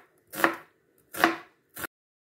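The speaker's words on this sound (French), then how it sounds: "Je vais prendre mes oignons et je vais les couper comme ça, en lamelles." Knife chopping onions into strips on a cutting board: three crisp, close chops, the last one shorter, with silence between them.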